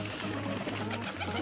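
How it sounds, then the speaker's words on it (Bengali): Pigeons coo softly in a loft while being fed mustard seeds, the low murmuring calls blending over a steady background hum throughout. "আমি একটু সর্ষে দিব এখন কবুতরকে।"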